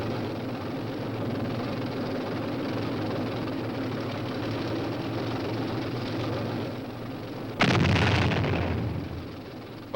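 A powerful M48 Patton tank moves through training maneuvers with a steady rumbling engine roar, then a sudden loud blast marks a simulated direct hit near the end, followed by lingering heavy noise.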